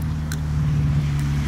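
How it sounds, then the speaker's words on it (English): A steady low drone from a car's 1JZ engine revving holds throughout, slightly rising in the middle, heard from a distance at a rainy car meet with a couple of faint clicks on top. "There's something with a 1J revving over there."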